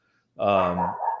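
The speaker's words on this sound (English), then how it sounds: "Excuse my dog there." A single dog bark, a short sharp harmonic yelp close to the microphone, heard alone after a moment of quiet during a live sports chat.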